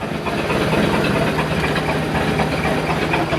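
A boat engine idling at low RPM with about 35 psi of oil pressure, first started after nearly two months, gives a steady close rumble with a throbbing low pulse and no talk.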